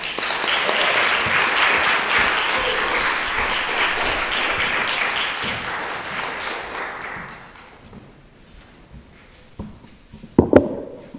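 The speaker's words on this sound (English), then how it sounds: "So let's give a round of applause for Priscille." Audience applause for a spoken word performer, dense and loud clapping that fades out over several seconds, followed by a few scattered claps and footsteps.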